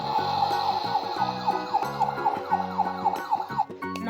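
A toy ambulance plays its electronic siren after a button press, a rapid repeating wail that stays steady and close throughout the clip with no talking.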